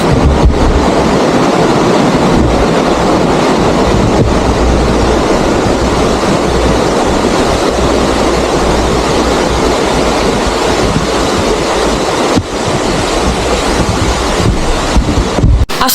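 Water from a beach resort's swimming pool at Puerto Galera, Oriental Mindoro, rushes out as a loud, steady roar like surf, with some wind buffeting on the microphone and no speech.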